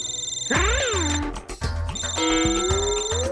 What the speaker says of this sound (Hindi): तो फिर ये बार बार लोग फोन क्यों कर रहे हैं तुम्हें?